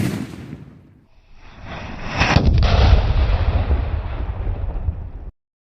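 A village firecracker set off under water bursts with a deep, muffled boom, then a rumbling roar that lasts a few seconds before it stops abruptly.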